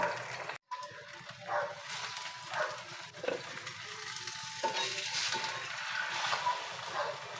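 Scrambled eggs frying in a metal pan, with a steady sizzle and intermittent scraping and stirring strokes throughout, fairly close and without talk.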